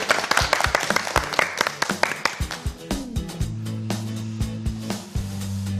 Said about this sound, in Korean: 박수를 청할까요?